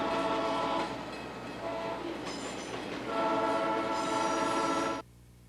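A train rumbles past with its horn blowing in long sustained blasts over the steady roar of the rail cars, loud and close, ending abruptly.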